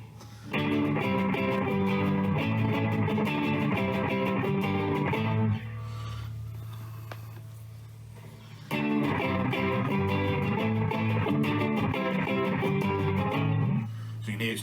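An electric guitar runs through a TC Electronic Echobrain analog delay pedal set for many repeats, with strummed chords trailing into dense echoes, a quieter stretch of fading repeats in the middle, then loud playing resumes, close and alone.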